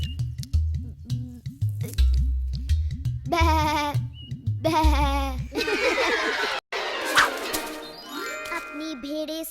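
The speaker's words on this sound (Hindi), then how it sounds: "अपनी भेड़ें संभालो श्रीधाम" Sheep bleat several times over a busy music bed with jingling bell tinkles, set in an animated tale of Krishna in a grassy pasture.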